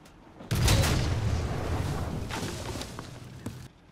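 Tank cannon fire in a tank video game: a loud booming blast that hits suddenly and rolls on into a long, rumbling decay lasting several seconds.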